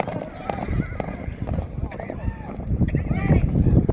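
Horses galloping in a Kazakh horse race, rapid hoofbeats and an occasional whinny under constant excited race commentary.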